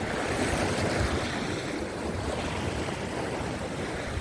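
Strong wind roars steadily against the microphone while rough surf crashes over the rocky shore at Adeulbawi, Jumunjin near Gangneung, a dense, unbroken wash of noise with no voices.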